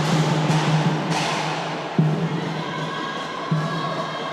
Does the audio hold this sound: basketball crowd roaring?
yes